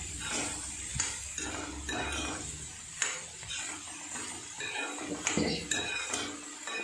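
Metal spatula scraping and clinking against a pan while green beans stir-fry (beans mezhukkupuratti) with salt, a continuous rough scraping over a soft sizzle, with someone talking over it.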